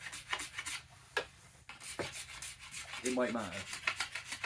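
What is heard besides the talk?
card scraper scraping a yew wood bow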